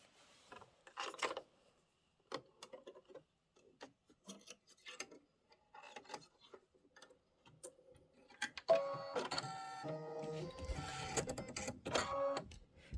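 An embroidery machine stitches a placement line for batting on a witch hat pillow piece, starting with scattered mechanical clicks and thumps, then breaking into a rapid, steady, whirring stitching rhythm close by, with no talking.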